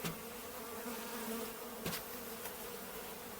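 A small fall swarm cluster of honey bees hums steadily inside a wooden hive box, a dense close buzz with a couple of brief clicks or knocks partway through.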